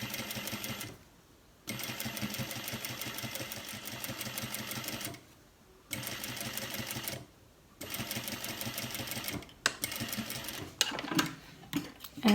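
A sewing machine stitches a pocket flap for cargo pants in several runs of rapid, even mechanical clatter, separated by short pauses, close and alone, ending with a few clicks and handling noises.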